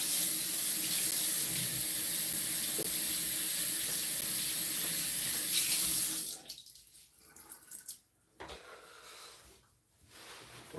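Running water from a sink tap splashes steadily and close while hair is washed under it, then breaks into irregular splashes and gaps as the flow is interrupted.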